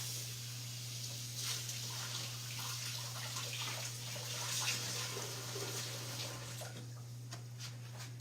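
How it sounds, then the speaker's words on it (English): Tap water runs steadily into a kitchen sink while basil leaves are rinsed, a continuous hissing splash with small irregular spatters and a constant low electrical hum underneath. "I'm gonna rinse these leaves off."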